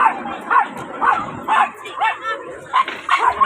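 A dog barks and yips repeatedly in quick bursts, close by, with short pauses between barks.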